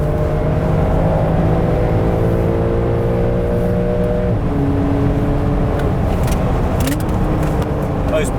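A Porsche 911 (992) on the Hockenheimring racetrack, its engine note climbing and shifting through gears, loud and close from inside the car, with brief voices and rustling toward the end.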